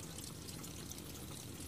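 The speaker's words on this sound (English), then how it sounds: "old pipe unions were dripping. All the joins were kept dripping." Water dripping and trickling from old, leaking pipe unions on a worn-out domestic hot water cylinder, a faint, steady wet patter with a low background hum throughout.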